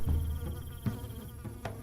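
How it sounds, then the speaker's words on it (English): Hornets or bees buzzing along a patrol route, a steady close drone with a few swelling passes as insects move near. "Hives of hornets or bees were placed along the patrol route"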